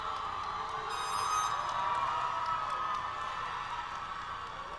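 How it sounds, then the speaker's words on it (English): A crowd at a 2021 school graduation ceremony applauds and cheers the graduates, a dense wash of clapping with scattered whoops that swells slightly, then eases. "let's give a big round of applause for our 2021 graduates"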